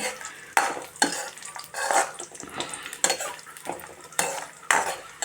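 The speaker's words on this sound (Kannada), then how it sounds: "ನಾನಿಲ್ಲೆಲ್ಲ ಸ್ವಲ್ಪ ಲೈಟಾಗಿ ಫ್ರೈ ಮಾಡ್ತಾಯಿದ್ದೀನಿ, ಇವೆಲ್ಲ ಹುರ್ಕೊಳ್ತಾ ಇದ್ದೀನಿ." A utensil stirs and scrapes through grated carrot lightly frying in ghee for carrot halva, giving soft sizzling under repeated close, rhythmic scraping strokes against the pan.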